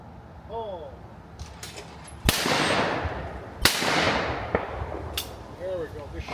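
Shotgun blasts ring out at sporting clays tournament practice: two or three sharp, loud reports with ringing tails, spaced a second or so apart, while faint voices talk before and after.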